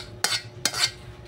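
A metal utensil scrapes twice through boiling dinuguan, a Filipino pork blood stew, in a cooking pot, two quick close strokes over a steady simmering background.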